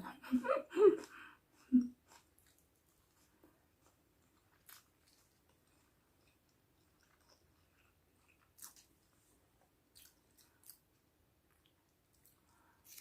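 Someone chewing cow testicles, a cluster of close wet bites and chews at the start, then long near-silence broken by a few faint isolated mouth sounds.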